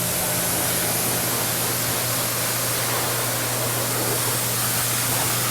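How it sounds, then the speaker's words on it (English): Pressure washer at 900 psi sprays deionized water across the engine bay of a BMW E92 M3, a steady, loud hiss of broadband spray that holds unbroken with a faint low hum beneath. "I'm going to wash the engine bay with a pressure washer"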